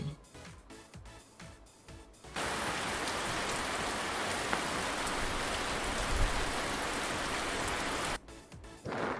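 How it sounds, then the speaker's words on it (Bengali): Steady, dense rain pours down for several seconds, a loud even hiss with pattering drops, bracketed by brief quieter stretches at the start and end. "ছাতা মাথায় বৃষ্টি পড়ে"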